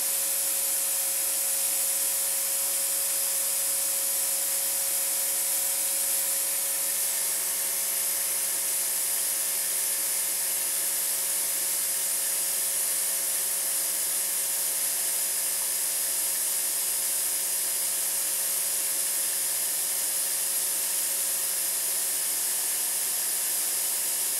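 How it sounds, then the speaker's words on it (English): An air compressor feeding a CNC machine setup runs continuously, a steady hissing drone with a constant motor tone as tank pressure slowly builds back up, no voices over it. "the compressor should just have enough power to pick it back up"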